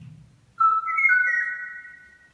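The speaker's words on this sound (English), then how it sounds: "That's the sound of the now, unfortunately, extinct kawairu" A recorded call of the extinct Hawaiian kauai bird played back through an electronic instrument: a soft rustle, then a clear, sustained whistled tone that slides slightly and holds for over a second before fading.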